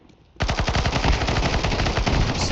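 Sustained automatic fire from a PP-Bizon submachine gun in Counter-Strike 2, a tight rapid burst of close, loud shots starting abruptly and continuing without pause to the end.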